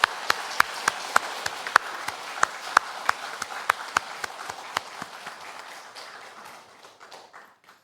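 A church congregation at a Sunday service claps in unison, a steady run of sharp, rhythmic claps that thins and fades out toward the end.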